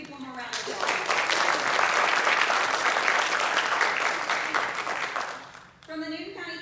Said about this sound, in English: Let's give Indian Creek one more round of applause